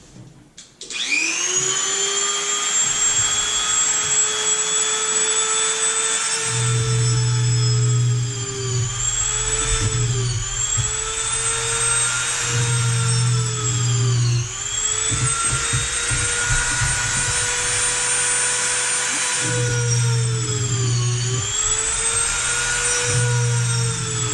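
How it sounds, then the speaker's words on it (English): A loud, continuous high-pitched drill whine runs throughout as starter holes are bored in wood, dipping in pitch several times as the bit bites in and then recovering. "I just kind of drill starter holes"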